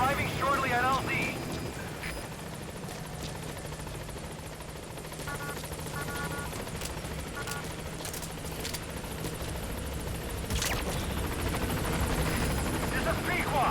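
Pequod, a transport helicopter in Metal Gear Solid V, arrives with a steady rotor and engine drone that holds throughout. A radio voice talks over it.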